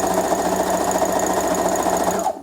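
A sewing machine runs steadily at close range while stitching a fabric face mask, a continuous loud motor hum with fast needle rhythm that cuts off at the end.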